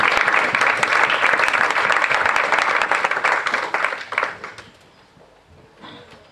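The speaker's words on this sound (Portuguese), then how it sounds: "Wir können den Herrn wirklich applaudieren." Loud applause from a crowd fills the room, holding steady for several seconds before thinning out and fading to scattered claps.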